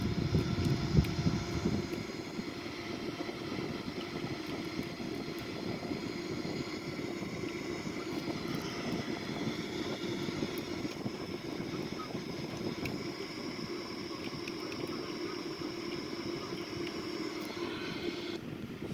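A Boeing 787-9 takes off with a steady, moderate roar of jet engines and airflow that holds throughout, and faint mechanical thuds that could be the landing gear retracting.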